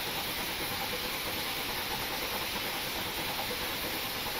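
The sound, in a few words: steam locomotive injector hissing, from video game Train Simulator Classic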